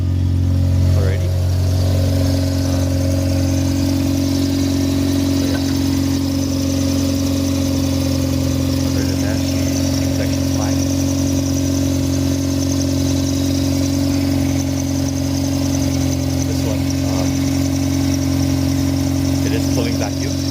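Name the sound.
Mazda RX8 engine with Greddy turbo running, exhaust leaks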